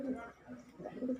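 Soft, low cooing from pigeons repeats in short rounded phrases, close by, with a faint voice talking underneath.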